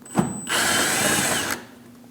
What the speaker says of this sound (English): Using an 8mm socket, we're going to remove the bolt on the bottom corner of the bumper.